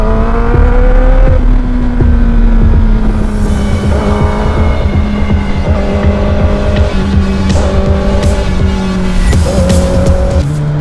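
A BMW S1000RR sport motorcycle engine revs hard and loud up close, rising through quick-shifter gear changes in repeated pitch climbs with steady wind rush, no talking.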